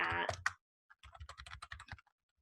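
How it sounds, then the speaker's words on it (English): Quick bursts of clicky keystrokes on a computer keyboard as an answer is typed, close and crisp over about a second, preceded by a brief voiced sound and followed by silence. "I'm going to type an answer and tell you to please email me"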